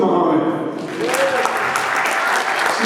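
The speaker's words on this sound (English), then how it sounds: "We want to give a special applause for Sister Lisa Muhammad." An audience at an Unsung Hero award ceremony applauds Sister Lisa Muhammad: dense clapping swells in about a second in and holds steady, with a voice talking over it.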